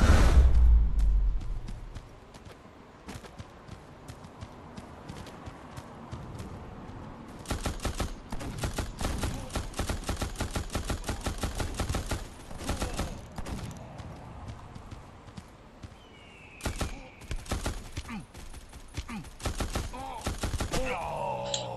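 Rapid bursts of Fortuna machine gun fire from the Guns of Boom shooter game, loud, dense rattling volleys in several stretches with short pauses between, over background game noise and footsteps.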